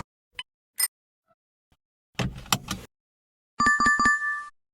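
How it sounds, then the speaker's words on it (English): A car seat belt buckle button clicks a couple of times, then gives a brief burst of rattling clicks, followed by a bright ringing chime. Sounds are close and short, with silence between them. "Your sound is car seat belt button."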